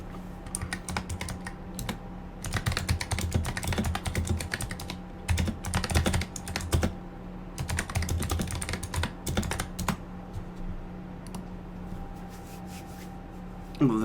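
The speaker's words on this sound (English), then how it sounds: "I kind of forgot that it would pick up my keyboard." Rapid typing on a computer keyboard, close and crisp, in dense bursts with short pauses, fading to sparse keystrokes toward the end over a faint steady hum.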